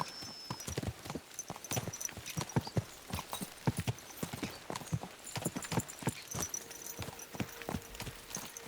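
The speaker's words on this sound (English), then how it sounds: "Let's really spur these horses on, eh?" Horses gallop across open ground in the medieval video game Kingdom Come: Deliverance II, their hooves drumming in a fast, steady clip-clop rhythm, close and loud, with a brief neigh and no talking.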